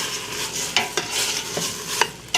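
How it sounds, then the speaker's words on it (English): Rice being stirred into a pot of Creole jambalaya with shrimp, okra and andouille sausage, a close scraping stir over a soft sizzle, with spoon clinks against the pot. "we're going to go ahead and throw our rice in here."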